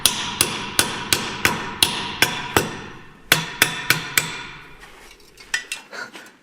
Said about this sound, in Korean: 망치로 두드려 끼워줍니다.